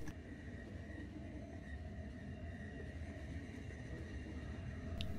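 A moving train in the video game The Final Station rolls along with a steady, dense rumble and faint rattling, continuous and quiet throughout, with a brief squeal near the end.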